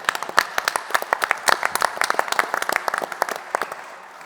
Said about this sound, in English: I think that's worth a big applause,